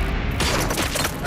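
Gunfire in the video game Robocop: Rogue City, a loud, dense burst of shots packed into about a second, with no talk.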